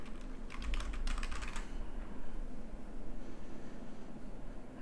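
Computer keyboard typing in a short, fast burst of clicks early on, close and clear over a steady background hiss, then only the hiss remains; no one speaks.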